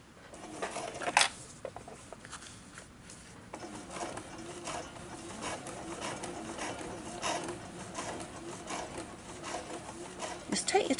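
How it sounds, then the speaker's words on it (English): A sewing machine stitches fabric for a glasses case in steady mechanical bursts, its clatter running close and fairly loud from the middle of the clip onward, with quieter rattling before. "we're just going to start sewing, and we're going to stop when we get to this mark over here"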